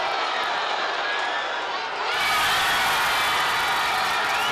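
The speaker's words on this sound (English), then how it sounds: "The official had already gone for the free kick here, as that's what the crowd was celebrating." Stadium crowd at a New Mexico United versus Las Vegas Lights FC soccer match, a broad roar that swells suddenly into loud, sustained cheering and whooping.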